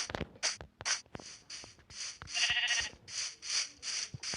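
Minecraft sheep bleating in a survival game, a run of short repeated baa calls in quick succession, loud and close, with no talk over them.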